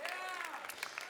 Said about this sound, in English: we can give that a round of applause.